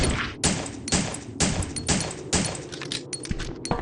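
Shotgun blasts in the video game Asthenia: a rapid series of loud, close, sharp reports, roughly eight shots fired in quick rhythmic succession.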